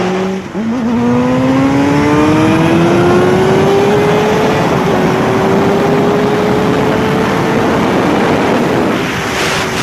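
A Honda CBR600RR sport bike's inline-four engine winds up hard to very high rpm, a loud rising howl climbing steadily through the gears, with heavy wind rush behind it.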